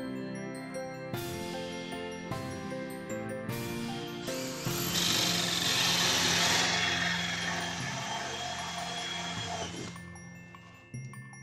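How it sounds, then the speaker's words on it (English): Power drill boring through a piece of MDF while making a wooden Christmas tree advent calendar, a steady whirring grind with several short bursts at first, then a longer continuous cut that swells louder before stopping. "we are going to flip the piece over and drill in the same spot until we're done drilling"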